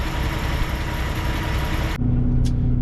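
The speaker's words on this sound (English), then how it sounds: "the truck is running to build up some air" A Kenworth T680 truck engine idles steadily to build air pressure, a loud, even diesel rumble that continues throughout, with a tonal hum and a brief higher whine near the end.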